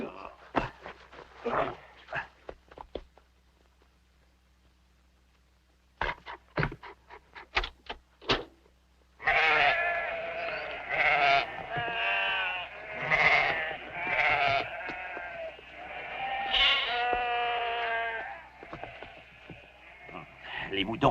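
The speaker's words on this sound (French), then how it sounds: "Les moutons fichent le camp." Sheep bleat repeatedly, several overlapping calls close by after scattered knocks and footsteps, with a dog barking briefly among them.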